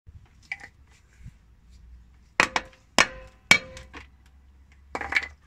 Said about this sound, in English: so we will give that a couple of taps with a hammer